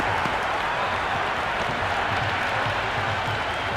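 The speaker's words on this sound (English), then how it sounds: "The crowd are really getting quite raucous." A raucous cricket crowd in the video game Cricket 26 keeps up a loud, steady roar of cheering and clapping with no break.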